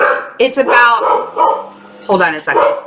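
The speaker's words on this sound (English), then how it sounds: "So you might hear a dog barking downstairs." A dog barks downstairs in a house, a few short yips and barks mixed in under a woman's close, loud talking.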